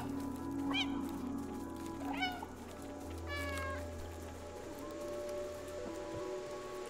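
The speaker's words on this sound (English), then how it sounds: "Right away, we start off with NPC cats getting in the way." Cats in the video game Stray give several short meows in sequence, close and fairly quiet, over a soft rainy ambient background.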